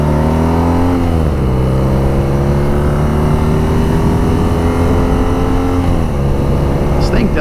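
A 2019 BMW R nineT motorcycle engine runs loud and close, a deep steady drone whose pitch dips and climbs with small throttle changes.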